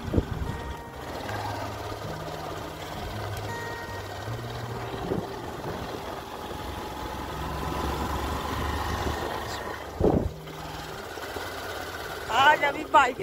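A motorbike engine runs steadily on a ride through a village, giving a low, continuous drone with brief louder bursts, heard under people talking.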